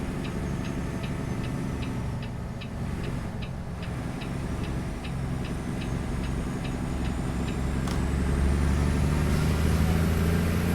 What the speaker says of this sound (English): Left the Jake on.